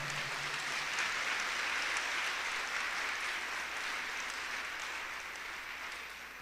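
A church congregation at a Spanish-language service applauds in praise. The clapping is a dense, even wash of many hands that holds steady, then tapers slightly toward the end, with a voice faintly heard at the start.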